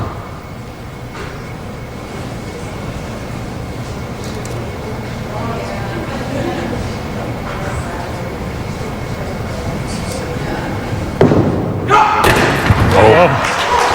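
A bowling ball rolls down the lane during a televised men's singles match and crashes into the pins with a sharp clatter, breaking up a split, while commentators talk throughout over the noisy ambience of the alley.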